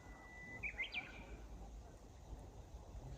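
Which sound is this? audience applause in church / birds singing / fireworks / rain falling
birds singing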